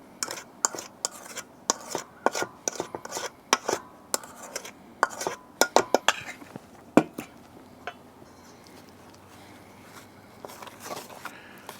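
A utensil knocks and scrapes against a bowl while flour is worked into banana bread batter, giving irregular clinks and taps that come in quick bursts and then thin out into sparse scraping.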